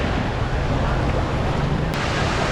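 Sea wind and surf on the beach at Cox's Bazar at sunset, a steady broadband roar of waves and gusting wind buffeting the microphone throughout, loud and continuous with no clear breaks.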